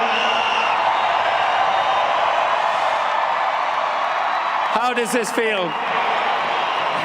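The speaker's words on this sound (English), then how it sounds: "Fantastic crowd here." A large crowd cheers and roars steadily at a Formula E race in Mexico, Nick Cassidy's Citroën win celebrated by fans in a loud, continuous wash of noise while someone speaks close by over it.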